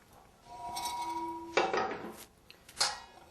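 A chicken, cabbage and rice mixture is transferred into a serving dish in a kitchen, with a few soft scrapes and two or three light clinks of utensil against dish, quiet and close, with no talking.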